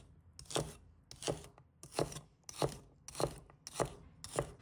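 Celery stalks cut into short lengths with a kitchen knife, seven crisp, evenly spaced chops against a cutting board, close and clear with no talk.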